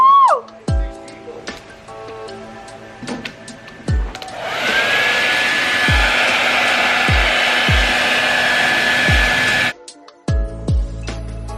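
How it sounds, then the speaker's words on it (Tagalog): A hair dryer blows steadily and loudly on freshly dyed red hair, a continuous whooshing drone lasting several seconds, with sharp clicks and brief handling noises before it switches on and after it cuts off. "I-blower ko muna siya."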